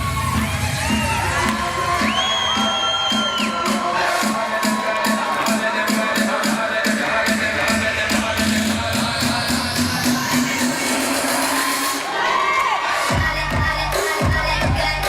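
An audience of more than 300 people cheers and whoops for break-dancers at a hip-hop evening, a loud, steady crowd roar over thumping dance music that runs throughout.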